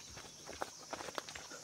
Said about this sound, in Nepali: अहिले चाहिँ हामी यो बाटो हिँडिरहेको छौँ है